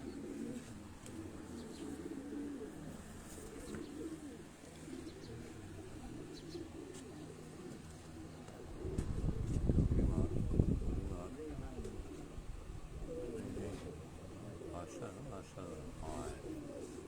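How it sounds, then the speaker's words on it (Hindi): Desi domestic pigeons coo softly in the background, low and murmuring, beneath ongoing conversation, with a louder rustling burst near the middle. "ये भी देसी कबूतर हैं जी"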